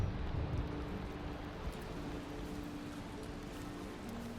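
Steady rain falls in the Valheim game world, a continuous low hiss with a dull rumble underneath that holds level throughout, with no voices over it.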